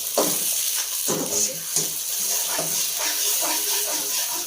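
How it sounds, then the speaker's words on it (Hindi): Water splashed into a pan of frying onions for bhindi masala crackles and sizzles in bursts at close range, with stirring and light scraping mixed in. "इसमें ये देखें हमने पानी का छट्टा लगा दिया। जब पानी का छट्टा लगाएंगे प्याज अपनी असल शक्ल में लगेगा।"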